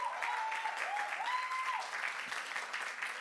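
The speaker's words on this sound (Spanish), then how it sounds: "dale fuerte ese aplauso" Church congregation applause during a service in New York, a soft, distant patter of clapping with faint sustained music tones behind it.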